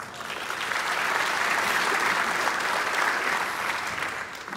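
A graduation ceremony crowd breaks into steady applause, a broad wash of many hands clapping that builds quickly, holds evenly for several seconds and then begins to fade.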